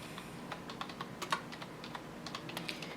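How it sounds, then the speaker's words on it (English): Quick bursts of keystrokes on a computer keyboard, light close clicks in an irregular rhythm over a quiet room. "you'll type in Windows Update"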